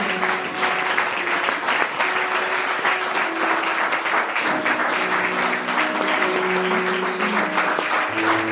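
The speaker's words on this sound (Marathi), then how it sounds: "टाळ्या वाजवून देवाला धन्यवाद." A church congregation claps hands in thanks during a sermon, a dense, loud, continuous round of applause from many people that holds steady throughout.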